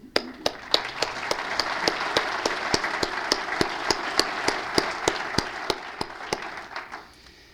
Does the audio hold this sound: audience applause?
yes